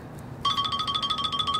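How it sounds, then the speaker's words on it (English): Phone ringtone breaks in during a rubber flat roof repair, an abrupt, rapidly pulsing electronic trill at moderate volume over faint background noise. "There's always a phone ring when I am doing this"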